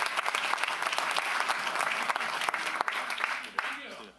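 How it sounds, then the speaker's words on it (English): Steady applause rises from the audience at a county supervisors' regular meeting. Dense clapping holds for several seconds, then thins out toward the end, with occasional louder claps standing out. "let's give them a real big round of applause"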